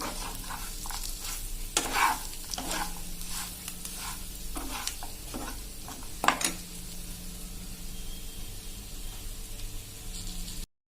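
A spoon stirs a pan of stuffed whole onion curry with coriander leaves over steady sizzling, making several scraping, shuffling bursts close by.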